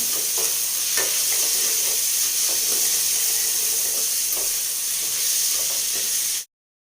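Cumin seeds roasting in hot oil with asafoetida, a loud, dense, steady sizzle and hiss with small crackling pops throughout, close up and without talking, cutting off abruptly at the end.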